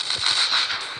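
A tank in the Tank Hero mobile game fires rapidly, making a brief run of quick crackling pops, close and fairly loud, lasting about a second.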